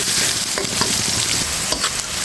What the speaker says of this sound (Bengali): জিরা এখন দিয়ে দেবো পেঁয়াজ কুচি এটা একটু ভেজে নিচ্ছি